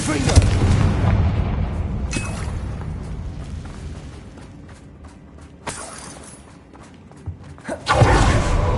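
A Confringo fire spell blasting in Hogwarts Legacy: a loud, rumbling burst at the start that fades into a lingering roar, with sharper cracks and thumps later and another heavy boom near the end.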